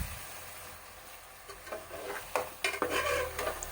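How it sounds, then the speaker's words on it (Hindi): Chicken biryani mixture with yogurt being stirred in a pot, giving soft wet scraping and clinking sounds that grow busier toward the end, close and fairly quiet. "एक दफ़ा इसको थोड़ा सा मिक्स कर लिया मैंने।"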